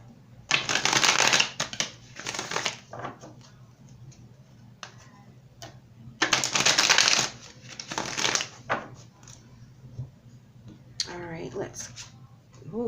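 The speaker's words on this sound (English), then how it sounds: "Let's go ahead and pull some more cards here for your advice and obstacles." Tarot cards are shuffled in two loud riffling bursts near the microphone, with softer card handling and taps in between. A voice speaks over part of it.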